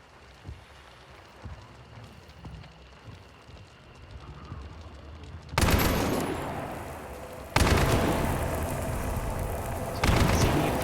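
Gunfire in Hunt: Showdown aimed at grunts: quiet scattered clicks at first, then loud sustained bursts of shooting that break off and resume, close and dense.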